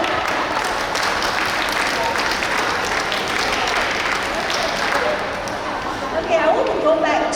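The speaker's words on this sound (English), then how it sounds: "Give yourself a clap" An audience at a women's empowerment and mental health talk claps, a broad continuous patter at full strength that dips briefly and swells again toward the end, with a voice emerging over it near the close.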